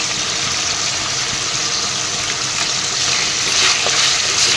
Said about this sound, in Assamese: নিমখ দি প্ৰথমতে মাংসখিনি মই ভাজি ল'ম